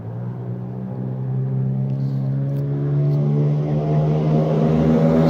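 A straight-piped Nissan 300ZX twin cam engine revs up in one continuous pull. The loud, raspy drone climbs steadily in pitch and volume, close up, with no talking.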